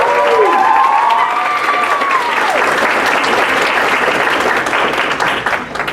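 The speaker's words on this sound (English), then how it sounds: "Another round of applause." A school concert audience at Western Harnett High School applauds after a piece, loud and continuous clapping from a large crowd that fills the room and slowly thins toward the end, with a faint whistle-like tone at the start.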